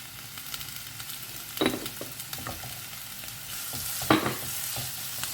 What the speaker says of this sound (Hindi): अच्छे से इसे मिक्स करें और हमें ना टमाटर सॉफ्ट होने तक हमें इसे कुक करना है।